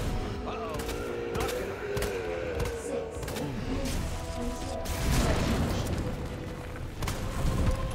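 Rapid bursts of gunfire ring out in the Resident Evil 2 final boss showdown, repeated shots cracking over a dense, rumbling game soundscape with metallic clanks, while a player talks over the action.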